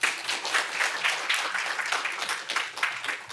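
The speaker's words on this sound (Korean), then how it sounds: "박수 한 번만." An audience at a public training-contest presentation applauds steadily for a few seconds, a dense wash of many hands clapping with no voices over it.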